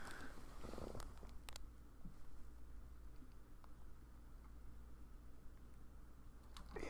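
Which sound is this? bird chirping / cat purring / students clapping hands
cat purring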